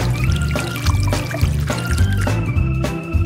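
Ribbon dunked into liquid chocolate for a cake decorating challenge, making a continuous close wet pouring and sloshing sound with irregular thick splashes throughout, fairly loud and without talk.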